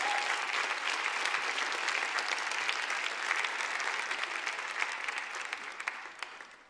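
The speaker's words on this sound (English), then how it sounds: "So please, if I get a huge round of applause for that." A crowd at a state championship event gives the volunteers a sustained round of applause, dense and even, gradually fading over the final seconds.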